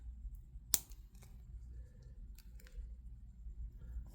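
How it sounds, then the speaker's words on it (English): A single sharp scissor snip cuts through material while someone makes fancy faery ears, one quick close click in otherwise quiet room tone. "I think I can snip this right there and get it off."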